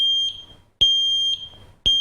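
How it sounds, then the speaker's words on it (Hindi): A battery-operated smoke detector running on a 9-volt battery sounds loud, piercing high-pitched beeps, two long tones spaced about a second apart, close and clear with nothing else around them. "जब इसको स्मोक से पहुंचेगा इस चैम्बर के अंदर, तो ये एक बीप क्रिएट करता है कुछ इस तरह।"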